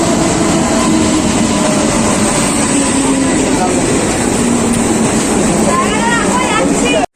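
Medinipur to Howrah local train arriving at a station, a loud continuous rumble and rattle of the rail cars that holds steady, with a rising squeal of wheels or brakes near the end.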